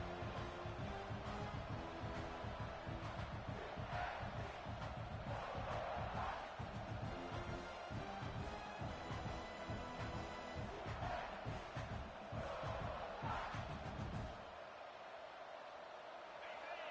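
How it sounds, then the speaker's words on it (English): A large football stadium crowd roars steadily in a big open venue, a dense wash of cheering and chatter that drops away abruptly near the end. "This crowd bringing the energy and noise early."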